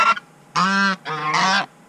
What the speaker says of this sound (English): over here, we've got the geese